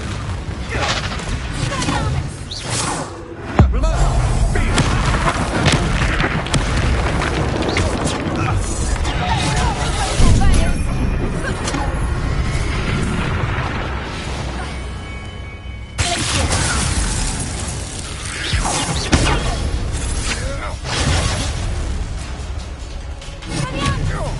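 Repeated Confringo fire spell explosions in the video game Hogwarts Legacy, booming and crashing loudly amid dense battle noise, with a voice talking over parts of the fight.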